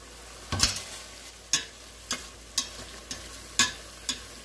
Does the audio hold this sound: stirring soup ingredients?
yes